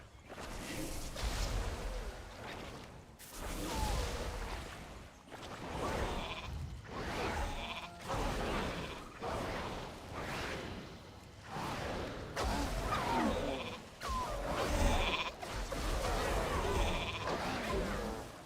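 Repeated sheep bleats sound over a busy World of Warcraft Dragonflight soundscape with whooshes, recurring every few seconds throughout at moderate volume.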